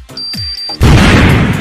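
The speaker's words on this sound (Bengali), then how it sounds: "আগে এই বোমটা ব্লাস্ট করাই" A bomb goes off in a terrorist-plot scene. A thin electronic beep and a couple of faint thuds are followed by a sudden, loud, roaring blast that fills the rest of the moment.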